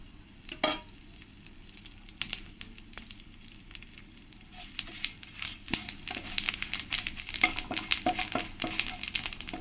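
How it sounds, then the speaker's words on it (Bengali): Panch phoron, bay leaf and two or three dried chillies hit hot oil in a pan for Bengali-style khichdi, giving a steady close sizzle with sharp crackling pops and spitting that grows busier toward the end. "আমার তেলটা ভালো করে গরম হয়ে গেছে এরপরে আমি এখানে দিয়ে দেবো এক চামচ পাঁচ ফোড়ন তেজপাতা আর দুটো তিনটে শুকনো লঙ্কা"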